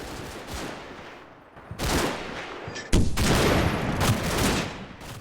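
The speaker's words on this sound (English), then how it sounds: "With suppressive fire from the Stummel, the infantry gun, and my ongoing long, slow 150mm artillery mission, 1st Company begins its dash toward the river" Gunfire and artillery in the Combat Mission: Red Thunder war game, with a Stummel, an infantry gun and a 150mm artillery mission firing: dense bursts of shots and heavy blasts follow in close succession, loud and continuous, with no talk.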